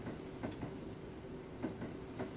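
A train rumbles steadily in the Burger & Frights video game, with a continuous low roar and faint periodic clacks from the rails, heard fairly quietly and without any voices.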